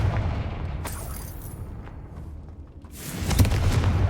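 A Confringo spell in the video game Hogwarts Legacy goes off as a broad, rumbling blast, with a noisy swell that rises again into a sharper burst near the end.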